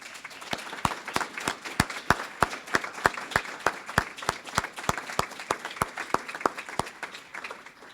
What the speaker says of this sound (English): Let's give the entire group of honorees a round of applause.